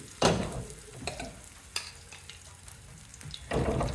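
Handvo batter hits hot tempering oil with a burst of sizzling, then a softer steady fry with scattered spatters, and another loud sizzle near the end.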